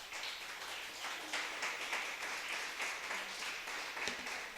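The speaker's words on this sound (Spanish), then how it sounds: "Dale un fuerte aplauso a nuestro Dios" Church congregation applauding during a Spanish-language Sunday service, a steady wash of many hands clapping that holds at an even level for several seconds without speech.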